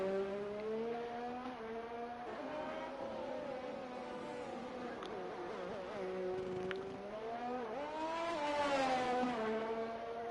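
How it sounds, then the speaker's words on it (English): A race car engine in a video game hums at a steady, moderate pitch, rising and dipping slightly as it cruises, with a brief squeal near the end. "By the sound of that engine, I think he's cruising."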